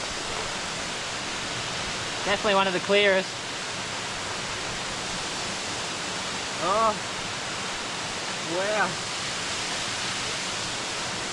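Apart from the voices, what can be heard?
waterfall rushing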